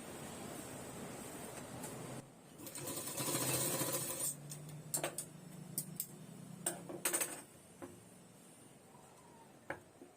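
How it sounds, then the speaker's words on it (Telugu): A sewing machine stitches a folded blouse seam in a short run, followed by several sharp, separate clicks and taps close by, with faint background hiss. "నేను ఇలా మడత పెట్టి కుడుతున్నాను."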